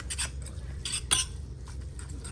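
Dry Thai rice noodles being stirred after two spoonfuls of noodle sauce go in, a series of quick scraping and clinking utensil strokes against the pan, close and fairly quiet, with no talking.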